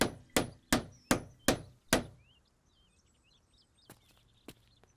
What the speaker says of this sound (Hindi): इतना शोर क्यों मचा रहा था? ये हथौड़ा किस लिए?